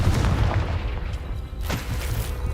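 A fiery Confringo spell blast in Hogwarts Legacy, a loud, continuous booming rumble that fills the whole moment, with a second burst swelling near the end.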